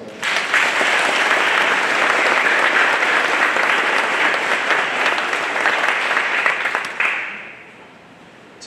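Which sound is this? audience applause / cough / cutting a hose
audience applause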